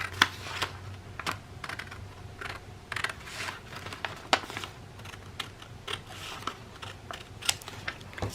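Scissors snipping paper while a bird-and-butterfly journal is being assembled, a series of sharp, close clicks and snips scattered irregularly over a quiet room background.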